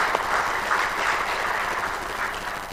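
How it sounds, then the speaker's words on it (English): An audience at a women's forum conference claps in a broad, steady burst of applause, loud and even throughout before easing slightly at the end, with no speech over it. "Another round of applause, ladies and gentlemen."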